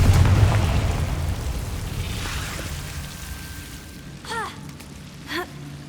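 A Confringo blasting spell in Hogwarts Legacy goes off as a deep rumbling boom that fades into a sustained roar, followed by a couple of brief magical whooshes, loud and close.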